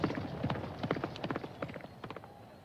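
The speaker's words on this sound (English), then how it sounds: "That horse isn't out of the race quite yet." Horse hooves gallop in a race in the Valkyrie Elysium video game, a rapid irregular clatter of hoofbeats, moderately close and fading slightly toward the end, with no talk.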